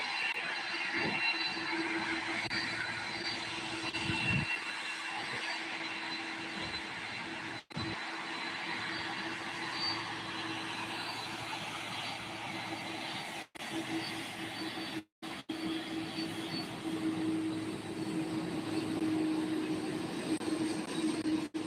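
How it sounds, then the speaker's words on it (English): Atlas Air Boeing 747 with a maintenance issue taxiing back toward the gate at an airport, a steady distant jet engine whine and rumble holding throughout with a few brief dropouts. "The Atlas 74 had a maintenance issue, so it's going back to the gate or the ramp."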